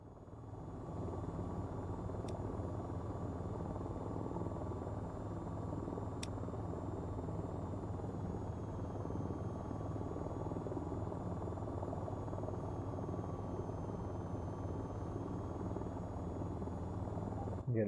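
A VTOL jet hovers near its pad in the VTOL VR flight game, a steady loud engine drone with a constant pitch and an even level, broken by a couple of brief clicks.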